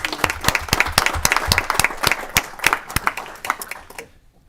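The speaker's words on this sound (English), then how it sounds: "Let's give her a round of applause there." People in a state legislative committee room applauding a woman for 24 years of service, dense crisp clapping from a small crowd that thins and fades out in the last half second.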